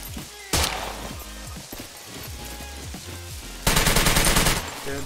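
Gunfire in the survival game Scum, with two sharp, loud broadband bursts, one brief shot early and a longer rapid volley near the end, over a steady low ambient rumble and scattered smaller sounds.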